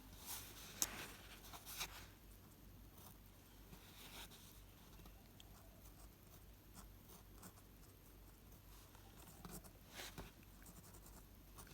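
Pen or brush strokes handwriting the Chinese character 高 in standard script, quiet scratchy marks in short bursts against a low steady background hum, faint and close.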